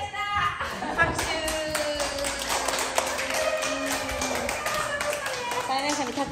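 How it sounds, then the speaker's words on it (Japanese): Children clap at the end of a dance lesson with a former USJ dancer, brisk scattered clapping in a room while adults and kids keep talking over it. "拍手"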